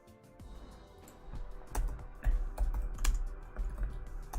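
Keys clatter on a computer keyboard in quick irregular bursts of close, crisp taps, with soft pauses between runs of typing during a programming session.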